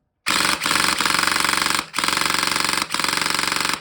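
A G&G G3 SGR556 airsoft rifle fires on full auto in rapid, loud mechanical bursts, three sustained strings of buzzing shots separated by brief pauses, close up with no talking.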